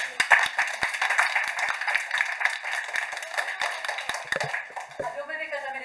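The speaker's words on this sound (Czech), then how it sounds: "Ještě potlesk pro naší režisérku." Audience applause for the director at the end of a children's theatre show, Kouzelné zrcadlo, by Divadlo Bubu. The clapping is dense and steady throughout, with sharp individual claps near the start and voices mixed in.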